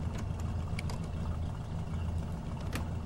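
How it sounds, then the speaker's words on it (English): A car engine idles steadily in the driving game My Summer Car, a low, continuous rumble running throughout with faint higher clicks and no talk over it. "My engine running."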